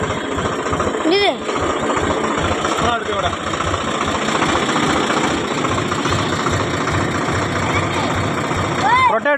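A tractor engine runs steadily with a rotavator attached, a loud, close, continuous mechanical rumble and knock throughout, with brief higher whines here and there.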